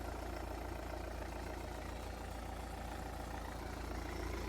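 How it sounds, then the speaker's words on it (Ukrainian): A Ford Focus engine idles smoothly and steadily, a constant low rumble with no changes in pace, close by and alone. "Мотор працює рівно"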